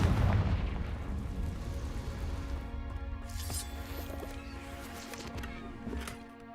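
Confringo blast spell cast in Hogwarts Legacy, a booming fiery explosion with a rumbling low-end tail that fades over several seconds, followed by faint crackling game effects, no talking.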